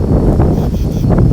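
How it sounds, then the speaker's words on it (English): Wind blows outdoors near the beach in New Jersey, a steady low rumble of gusts buffeting the microphone throughout, loud and close with no talking. "Getting windy out here."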